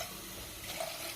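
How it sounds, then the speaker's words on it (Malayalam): Water poured into a pan of mankata fish curry masala, a short soft splashing gush heard close by on its own. "കുറച്ച് വെള്ളം കൂടെ ഒഴിച്ചു കൊടുക്കാം"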